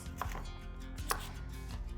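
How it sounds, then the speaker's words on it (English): A knife chops a sweet potato into chunks on a cutting board, two distinct crisp thuds with softer cutting sounds between, close and clear. "So with the sweet potato, I'm just gonna cut it up into chunks."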